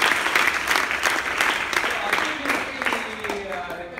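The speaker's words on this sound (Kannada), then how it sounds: "ಈ 10 ಜನಕ್ಕೆ ಒಂದ್ಸರಿ ಜೋರಾಗಿ ಚಪ್ಪಾಳೆ ಹೊಡೆಯೋಣ" A hall of PUC students claps loudly, a dense, sustained burst of applause that gradually thins toward the end.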